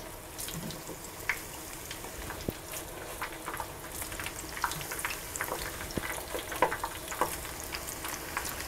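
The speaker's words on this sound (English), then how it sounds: "I have enough oil in this pan that I can keep at least half the meatballs submerged into the oil" Meatballs fry half-submerged in a pan of hot oil, giving a steady close sizzle with scattered pops and crackles throughout and no talking.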